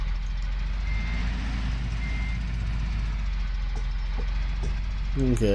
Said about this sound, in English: It's got a backup beeper, which seems a bit odd to me.